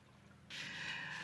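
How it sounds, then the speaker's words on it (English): Engine oil pours into the filler of a Triumph triple motorcycle engine, a steady close rush that starts abruptly and continues to the end. "add the appropriate amount to the engine following the instructions on the back"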